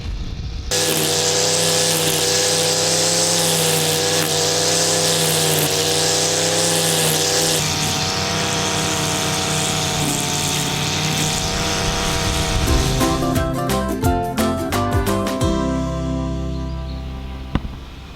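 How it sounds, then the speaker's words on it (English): A lawn mower motor drones steadily and loudly throughout while cutting grass nearby, then sputters and rattles toward the end. "helping her out by mowing her grass."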